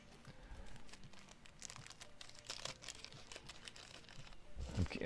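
Lego parts being bagged in a plastic bag: crinkling, rustling plastic with scattered sharp crackles and rattles throughout, a louder burst near the end, heard close up without speech.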